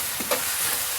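Onions frying in a pan for biryani on Eid give a steady, close sizzling hiss, with a brief scraping stir near the start.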